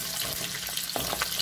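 Chicken pieces for a chicken curry fry in a pan with a steady, soft, crackling sizzle throughout, punctuated by a few faint pops and clicks.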